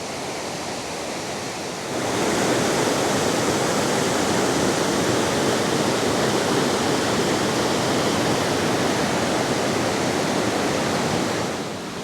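Steady roar of a mountain creek cascading over rocks, loud and close, a constant broadband wash that surges up after a quieter start.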